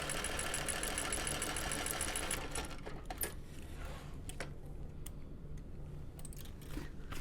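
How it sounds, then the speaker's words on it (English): A sewing machine top stitches beside a zipper on a baby bucket bag, a fast steady whirring run for a couple of seconds that then slows into lighter, intermittent clicks and taps nearby. "I'm going to top stitch next to my zipper first"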